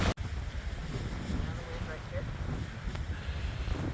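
Strong wind blasting across a mountain ridge in an ice storm, a dense roaring buffet of wind noise against the microphone, loud and constant, with someone speaking faintly beneath it.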